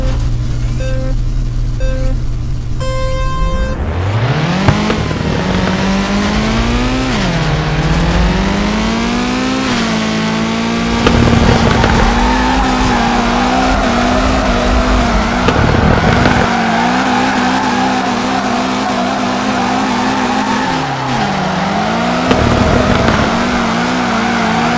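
A Lexus IS300 drift car in the video game FR Legends revs hard and holds a high, sustained engine whine, with tire squeal and skidding layered under the loud, continuous engine.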